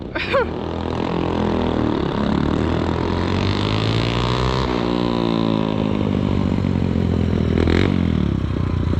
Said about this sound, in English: Bike's crazy loud.